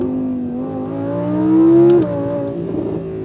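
An Audi R8 Performance with its exhaust valve open revs hard through quick downshifts, the engine note climbing to a loud peak and then dropping sharply, heard alone and close.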